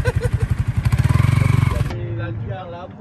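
A small Aveta Vanguard 250 scooter engine putters rapidly while riding, rising into a revving buzz before dropping away, with a voice heard toward the end.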